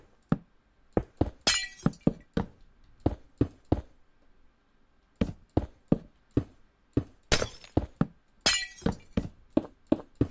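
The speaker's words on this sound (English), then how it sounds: "Cue all the glass breaking sounds." Minecraft glass blocks shattering in creative mode, a rapid series of sharp clinks and crashes in uneven bursts with brief pauses between them, loud and close, with no voices.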